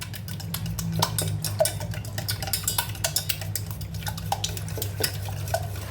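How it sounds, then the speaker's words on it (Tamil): Eggs beaten with a whisk in a bowl for a jaggery vattalappam custard: a quick, steady run of light metallic taps and clinks against the bowl, close and moderately loud, with no voices. "இந்த முட்டையை விஸ்கு வச்சு அடிச்சுக்கிங்க"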